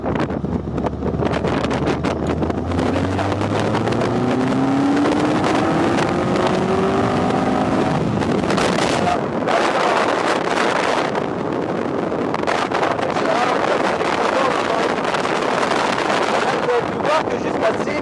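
A Westfield car's engine revs hard in second gear toward 6500 rpm, rising in pitch over loud, continuous wind rush, then settles into a steady, roaring drive noise heard from inside the car.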